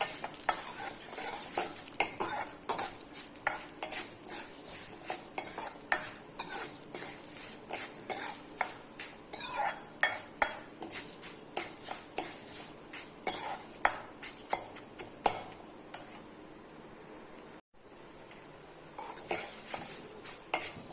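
Whole urad dal dry-roasts in a pan, stirred with a metal spoon in quick, repeated scraping and clinking strokes, close and steady with a brief pause near the end, and no talking.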